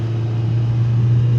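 A Nissan Pike car engine pulling uphill after shifting into third gear, a steady close low hum with a constant tonal drone and no voices.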